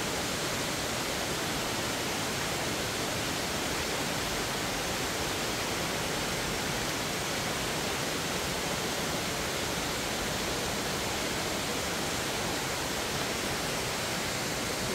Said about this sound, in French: vous avez les filets d'eau des deux cascades qui se rejoignent ici.